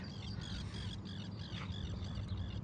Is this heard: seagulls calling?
yes